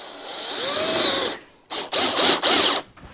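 Power drill boring a hole into a piece of wood: one sustained whining run, then three short bursts in quick succession, loud and close with no talking.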